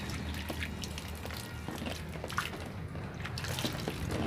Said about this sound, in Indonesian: Ini kita siram sedikit saja ini.